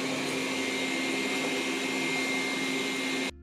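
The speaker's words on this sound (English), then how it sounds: "the vacuum cleaner passes the pan twice in zigzags and along the walls" A Xiaomi Mijia robot vacuum mop 2C runs close by with a steady, even whirring hum and a faint grinding of silicone lamellas on the floor, cutting off abruptly at the end.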